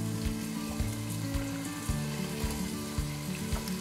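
Apple pieces fry in hot oil for a Kashmiri apple and eggplant dish, giving a dense, even sizzle close by with music playing underneath and no speech.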